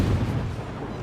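Naval guns of a warship booming in World of Warships, a heavy, rumbling roar of big-gun fire that is loud at first and slowly fades, with no separate shots.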